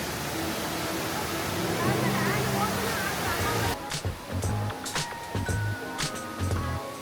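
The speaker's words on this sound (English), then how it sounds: "It's the world's tallest indoor waterfall and it's a total jaw" Loud, steady rush of the world's tallest indoor waterfall inside Jewel at Singapore's airport, a dense roar that drops away partway through, leaving quieter falling water with intermittent voices and crowd sounds nearby.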